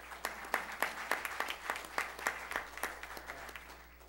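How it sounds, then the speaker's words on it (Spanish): An audience claps for a speaker at a tax and accounting conference, a dense burst of fairly close applause that holds steady for a few seconds and then begins to fade. "Recibamos con un fuerte aplauso al amigo Percy Baray."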